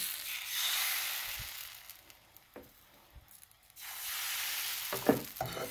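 Spring roll batter spread into a large hot pan, a steady close sizzle that swells and fades with soft scraping and a few sharp clicks, no talk.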